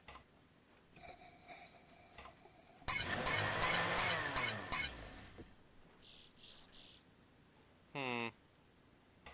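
A bird in the video game Chaos on Deponia gives a few quick, bright chirps in short bursts among other game sound effects, ending with one sweeping call.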